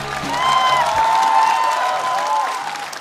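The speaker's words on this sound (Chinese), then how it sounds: "鼓掌一下" Studio audience applause at a Chinese roast comedy show, sustained clapping with a bright, dense wash of hands rising and holding steady, then tapering slightly near the end.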